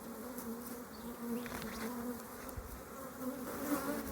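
Honey bees buzz from an open hive, a steady droning hum with a few louder passes of individual bees, close but quiet, with no talking.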